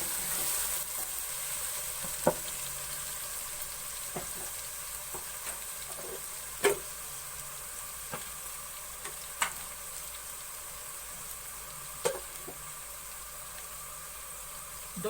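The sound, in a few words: garlic paste frying in a pan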